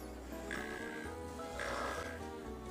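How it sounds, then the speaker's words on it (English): A low, rasping snore-like call of a snoring puddle frog repeating twice, close and fairly quiet, with a droning background. "One of my favorite little frogs, and its call goes like this. Snoring puddle frog"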